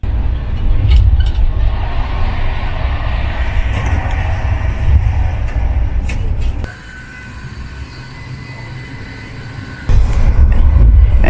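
Inside an overnight passenger train running from Kolkata to New Delhi, a steady loud rumble of wheels and carriage rattle fills the cabin, briefly dropping quieter before surging back, with faint clanks over the drone.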